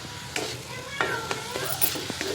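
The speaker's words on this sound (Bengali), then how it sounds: "অল্প করে তেল দিয়ে দিলাম দিয়ে গাজরটাকে দিয়ে সামান্য পরিমাণে মিষ্টি নুন দিয়ে ভালো করে নাড়াচাড়া করে নেব" Grated carrot stir-fried in a little oil with salt, a soft steady sizzle broken by several spatula scrapes and stirring strokes, close and moderately quiet.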